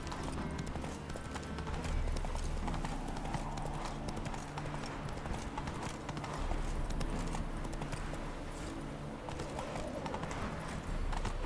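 Hooves of the horse Roach pound out a steady galloping clip-clop in The Witcher 3, continuous and close over a rumbling game soundscape.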